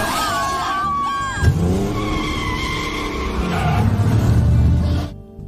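A car speeds away in a Jurassic World film scene, tires squealing and skidding loudly while the engine revs and accelerates, then the sound cuts off abruptly.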